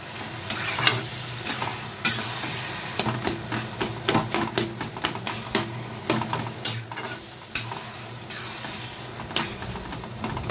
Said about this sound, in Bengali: এখন আমি এগুলোকে একটু ভালো করে মিশিয়ে নেব।